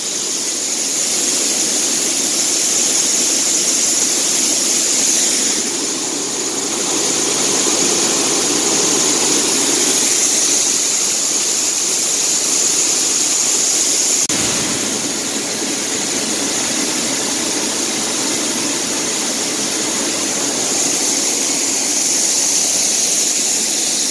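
Beans pour into a grain bin while machinery runs, making a steady loud roar and hiss of flowing grain and engine drone that holds with only slight dips throughout.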